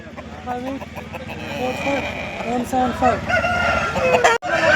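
A rooster crows loudly nearby at a poultry market, repeated calls and clucks from several birds, with people talking in the background.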